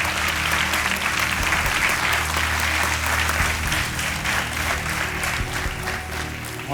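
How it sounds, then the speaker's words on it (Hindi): Warm studio audience applause on a televised quiz show as a contestant's helper is welcomed, a dense, loud and continuous roar of clapping from a large crowd, steady from start to finish with no speech over it. "तालियों के साथ आपका स्वागत।"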